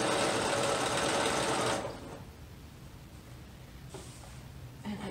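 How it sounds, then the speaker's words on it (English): A sewing machine runs a long gathering stitch a quarter inch from the edge of T-shirt knit fabric, a steady close whir for about two seconds before stopping, followed by faint handling noises. "We're going to use this for gathering, so we're just going to stitch at the 1/4 inch."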